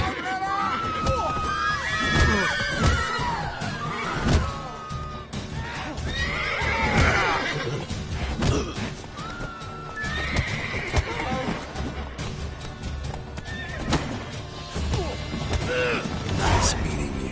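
Horses in The Witcher 3 Wild Hunt neighing and whinnying repeatedly over clip-clopping hooves, loud and close, with crashes and shouted voices mixed in throughout the game scene.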